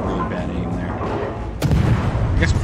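Naval ship guns in the World of Warships game fire in a heavy rumbling volley, with a sharp booming blast about midway and lingering low rumble afterward, close and loud.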